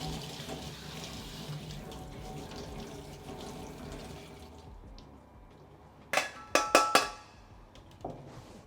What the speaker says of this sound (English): Now we want to rinse it under the tap in some cool water